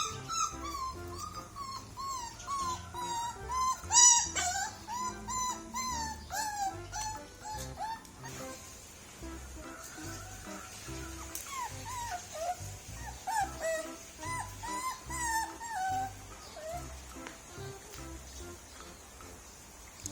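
Several Thai Ridgeback puppies whimper and yip in high, wavering cries, overlapping and close, with occasional louder squeals.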